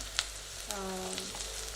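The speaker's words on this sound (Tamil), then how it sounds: "இன்னும் ப்ரௌன் ஆகிற வரைக்கும் கொஞ்சம் அப்படியே வதக்கிட்டே இருங்க" Soya biryani masala sautéing in a pan, a low steady sizzle running through the short stretch, with a faint clink near the start and no voices.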